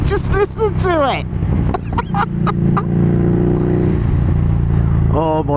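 The engine of a Harley-Davidson Street Rod 750 motorcycle blips and rumbles up close in short uneven revs over a steady idle, with excited talking and laughter mixed in.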